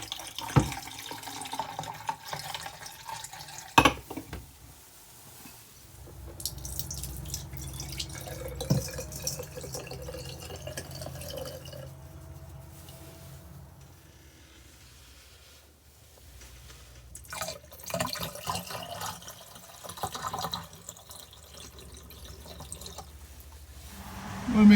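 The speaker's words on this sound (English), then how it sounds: "Pour 1 cup of antifreeze in all the traps." Antifreeze poured into the drain traps of an Airstream travel trailer while winterizing, heard as intermittent trickling and dripping liquid with clanks and sink noises over a long stretch, fairly quiet throughout.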